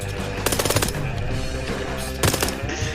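Rapid automatic gunfire in a survival video game, two dense bursts of close shots over continuous game background sound, with no speech.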